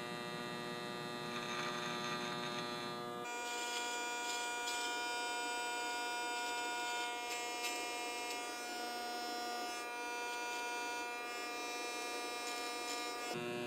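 Electric hair clippers buzzing close up during a low taper haircut, a steady high-pitched hum that turns brighter and harsher a few seconds in as the guard comes off, continuing without talk.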